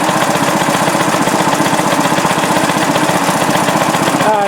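A restored rare Briggs & Stratton NR6 small engine runs steadily and close by, a loud continuous chugging putter with fast regular firing pulses throughout.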